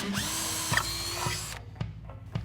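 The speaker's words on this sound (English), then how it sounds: "Drill a small hole in the bottom of the housing for the wire to come out." A small power drill whirs steadily for about a second and a half drilling a small hole in a plastic taillight housing of a 1967-1968 Mustang, then stops, followed by a few sharp clicks and taps.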